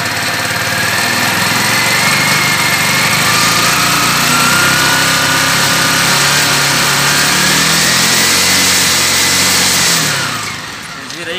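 A 2003 Honda CG 125 Titan KSE motorcycle engine held at a loud, steady high-revving drone, close by, dropping off toward idle in the last second.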